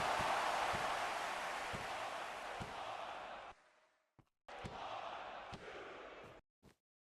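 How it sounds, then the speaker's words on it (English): Wrestling event crowd, loud and broad, roaring and chanting in unison at ringside for about three and a half seconds, then dropping out and returning in a second burst, with a few sharp thuds scattered through. "The crowd's chanting CTE"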